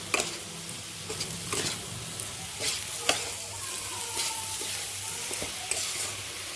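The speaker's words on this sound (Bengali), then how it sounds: "আর অল্প অল্প করে জল দিয়ে আর নাড়তে হবে।" Semolina pulao with raisins being stirred in a pan as water is added bit by bit, a steady sizzle broken by scraping stirs and small splashy pops.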